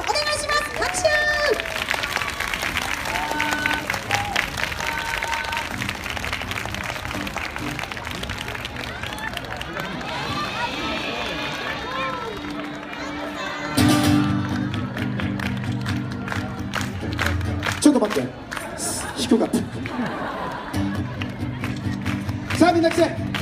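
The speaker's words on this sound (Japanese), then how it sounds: "拍手。" Audience applause and crowd noise at a stage event for a local mascot character band in Japan, steady clapping mixed with children's voices and babble, then louder music-like rumble and speech from the stage later on.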